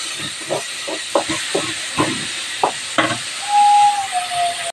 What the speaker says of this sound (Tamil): இதில் நல்லா வதக்கி விட்டுடலாம் சின்ன வெங்காயம்லாம் நல்லா வதங்கட்டும்